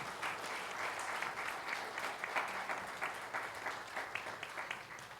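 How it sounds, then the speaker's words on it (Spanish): A church congregation applauds in steady, moderately loud clapping that swells and pulses slightly, with no speech over it. "Denle un aplauso a Jesús."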